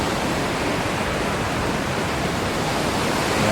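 Waterfall on the Shepperd's Dell trail, a loud continuous broadband roar of falling water heard from close by, steady throughout with no voices.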